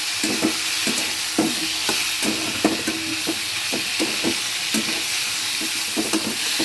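Onion paste fries in oil for a rohu fish curry with green banana, a constant close sizzle punctuated by regular rhythmic stirring scrapes about every half second, without any talking.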